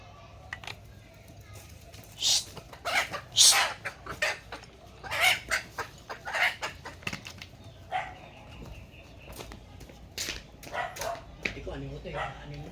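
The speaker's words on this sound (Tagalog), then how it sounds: "Manok eh." Chickens cluck and squawk in irregular bursts nearby, with a dog barking and wings flapping, amid outdoor background noise.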